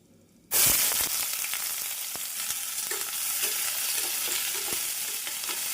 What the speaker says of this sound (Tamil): நாம் பொரியவும் நறுக்கிய வெங்காயத்தை சேர்த்து விடலாம்.